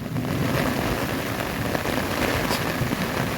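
Heavy afternoon rain pours down steadily in a dense, loud, continuous roar during a downpour with strong wind, with no voices.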